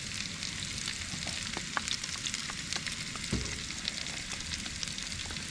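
Bacon browning in its own grease in a Dutch oven at a campsite, a steady soft sizzle and crackle with occasional small pops and a brief scrape, no voices.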